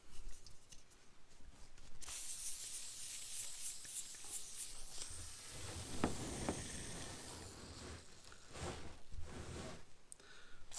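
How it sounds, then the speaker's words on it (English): Faint bursts of WD-40 spray on a Corvette Z06 emblem, with soft hissing and rubbing noises that come and go over roughly ten seconds, close and quiet. "Trying WD-40, trying to kind of soak in it."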